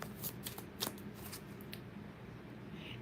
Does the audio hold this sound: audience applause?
no